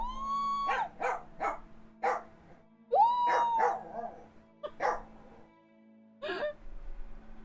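A dog named Cashew howls in drawn-out, wavering cries set off by passing sirens, with several separate howls rising and falling close by.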